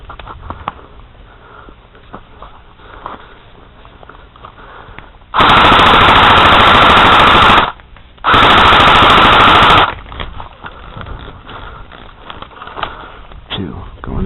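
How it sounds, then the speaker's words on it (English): Airsoft guns fire two loud, rapid full-auto bursts in close succession during an outdoor capture-the-flag game, with quieter background activity before and after. "Are you shooting at me?"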